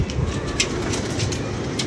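A pigeon, a prized racing bird that had once been stolen, is heard with soft cooing and rustling close by over a steady noisy background, with no talking.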